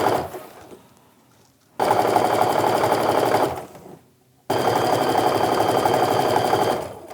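Domestic sewing machine stitching quilt strips in strip piecing for a Christmas quilt, running in two steady bursts of rapid, even stitching separated by a short pause, close and loud with no talk.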